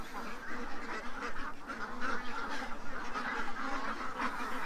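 Domestic ducks quack and honk in a steady, busy chorus at close range during feeding time, calls overlapping without pause.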